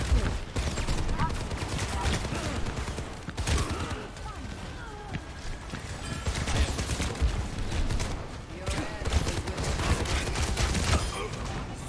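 Video game gunfire during a round of an objective-capture shooter match: repeated bursts of shots and impacts amid busy game noise, fairly loud throughout with some voice chatter mixed in.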